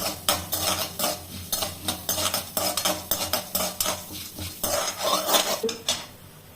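Chana dal fries lightly in a pan while a metal spoon stirs it, giving repeated scraping clinks against the pan in an uneven rhythm over a faint, soft sizzle, close and clear.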